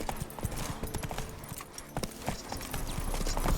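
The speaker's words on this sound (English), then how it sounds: "Whoa there, Roach" Horse hooves clip-clop steadily on hard ground in The Witcher 3, a quick, even gait heard close and fairly loud, with no voices in the clip.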